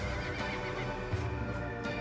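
Iracotherium, a dog-sized prehistoric ancestor of the horse, is voiced as a horse-like whinny with faint hoof clip-clop, quiet and continuous against a low background rumble.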